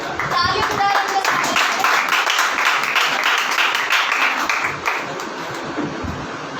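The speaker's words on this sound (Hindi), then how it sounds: "ताली बजा रहे हैं।" Church congregation clapping along during a Maundy Thursday service, a steady dense patter of many hands throughout, with voices and someone talking faintly in the background.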